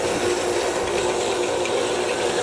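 An electric stand mixer beats firm butter for a frangipane tart filling, giving a steady, loud whirring drone that holds evenly throughout with no pauses.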